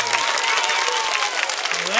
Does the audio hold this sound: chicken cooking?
no